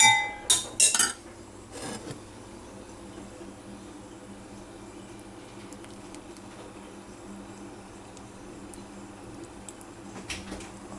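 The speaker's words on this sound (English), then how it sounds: "So we're giving that a quick stir." Pancake batter with milk and cheese is stirred in a bowl, opening with a few sharp clinks of utensil on the dish, then a faint low scraping and occasional tap.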